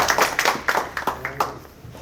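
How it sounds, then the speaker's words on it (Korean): A seminar audience of business owners gives a sparse round of separate claps, about eight sharp hand strikes at uneven intervals, to welcome a lecturer on intellectual property. The claps fade toward the end. "큰 박수로 모시겠습니다."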